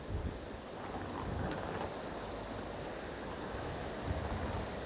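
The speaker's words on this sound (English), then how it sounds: "Here you have really some high waves." High ocean waves breaking along the shore at Ponta Delgada on São Miguel in the Azores, a continuous broad roar of surf mixed with gusty wind buffeting the microphone, no voices.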